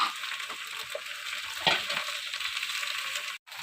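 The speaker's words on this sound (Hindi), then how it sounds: "भिंडी हमारी फ्राई हो रही है।" Steady, close sizzling and hissing of frozen okra frying in hot oil, with a soft clack partway through and a brief drop near the end.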